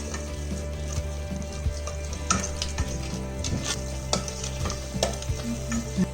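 Palak rice being stirred and mixed in a frying pan, with a steady low sizzle and scattered scraping and clinking of the spoon against the pan, no talking.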